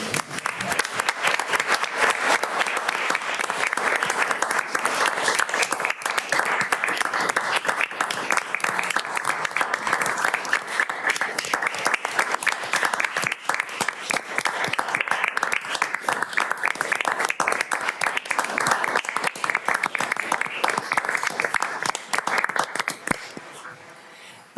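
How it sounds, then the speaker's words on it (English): An audience at a committee meeting rises and breaks into sustained, dense applause, heard up close for over twenty seconds before it tapers off at the end. "I'm going to ask us all to stand and applaud."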